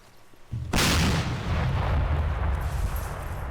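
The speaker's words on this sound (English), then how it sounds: "the explosions and everything, the gunfire sounds so much better with the JSRS sound mod" Video game gunfire and explosions enhanced by the JSRS sound mod, with a satchel charge going off: a sudden loud blast opens into a long, heavy rumbling roar that rolls on through the whole clip, with no talk.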